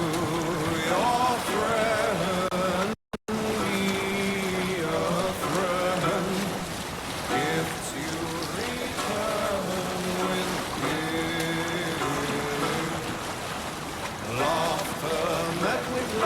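A ship under sail in Assassin's Creed Valhalla, with steady rushing water and a rain-like wash around the hull, loud and continuous, with musical tones and a brief dropout early on.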